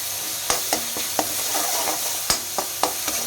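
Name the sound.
onions frying in oil in a wok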